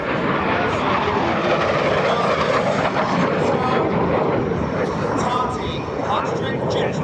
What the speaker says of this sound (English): at the controls for Hayden in this truck, a 57 Chevy, it's outfitted with two Westinghouse J-34 jet engines